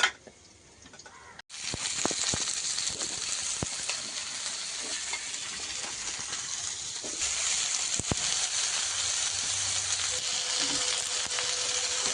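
Pointed gourd and potato tipped into onion tempering frying in a pan, bursting into a loud, continuous sizzle with occasional clatter of stirring, close and steady throughout.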